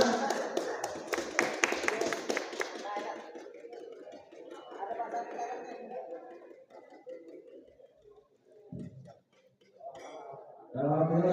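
An audience at a cup-match award ceremony claps in a brief burst of dense applause that fades within a few seconds into murmuring chatter and scattered voices.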